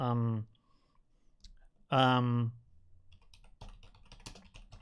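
Someone types a prompt on a computer keyboard, a light run of quiet clicks and taps after someone speaks twice, close and fairly faint.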